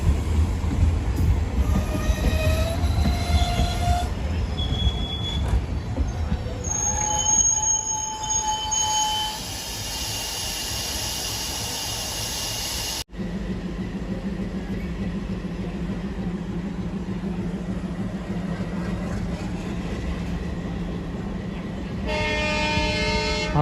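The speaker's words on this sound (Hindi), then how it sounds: "भावनगर बोटाद पैसेंजर लग रही" Bhavnagar–Botad passenger train running on Indian rails: a loud, steady rumble of wheels and carriages with squealing wheel tones and brief horn-like pitched notes, continuous throughout with no talk.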